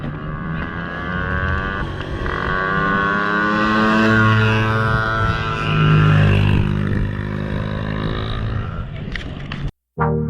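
Dirt bikes ridden by boys, a continuous revving motor drone with shifting pitch, fairly loud and steady for most of the stretch before a brief cutout near the end.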